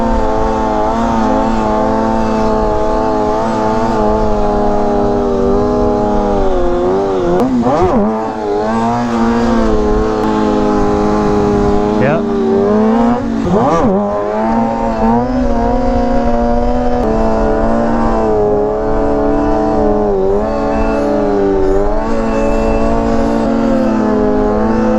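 Diesel trucks launching side by side in a staggered second-gear drag race on a drag strip, a loud, steady engine roar that holds throughout with two brief surges in pitch as they shift and pull.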